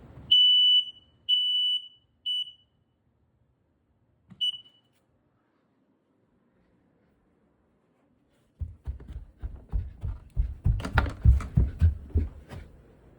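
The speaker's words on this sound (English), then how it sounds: "today we're going to be testing my house smoke alarms." A newly installed household smoke alarm under test gives three loud, piercing beeps in quick succession, then a single beep after a pause. Silence follows, then close rustling and handling noises.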